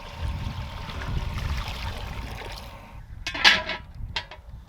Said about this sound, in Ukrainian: Наливаю воду у казан.